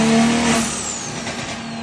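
A BMW 340i fitted with a big turbo revs hard on a dyno, a loud, steady engine roar with a high whine drifting across the brief burst, near and without talk.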